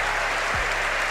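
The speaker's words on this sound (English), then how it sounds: "the Tigers fans strong in applause for Fabio Carvalho" Hull City fans in a football stadium applaud player Fabio Carvalho during a match against Millwall, a dense, steady wash of clapping from a large crowd.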